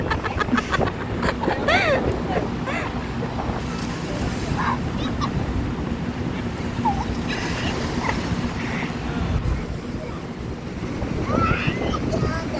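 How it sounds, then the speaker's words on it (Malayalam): Sea waves wash onto a beach at a family outing, a continuous close roar of surf mixed with wind buffeting the microphone and faint distant voices. "ഇവിടുത്തെ തിര നമ്മളെ വലിച്ചുകൊണ്ട് പോകത്തില്ല."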